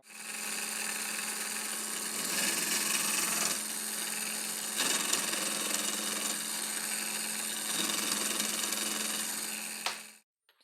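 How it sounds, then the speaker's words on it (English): A case trimmer buzzes steadily as it trims rifle brass cases shorter, a continuous close whirring drone that shifts slightly in pitch across passes and stops abruptly near the end. "So we're going to trim these down shorter."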